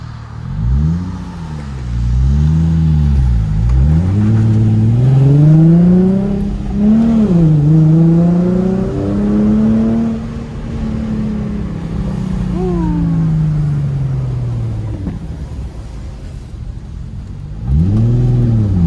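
Nissan 350Z fitted with a Tomei exhaust and Injen cold air intake revving up and down repeatedly at close range, loud rising and falling engine pitch with a long sustained high rev, no talking.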